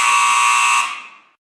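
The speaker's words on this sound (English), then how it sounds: "Okay, finger on the buzzer." A quiz-show buzzer sounds once, loud and steady for under a second before fading out quickly, with no other sound around it.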